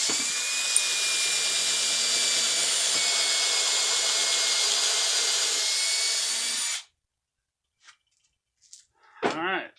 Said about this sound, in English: I'm going to drill that hole.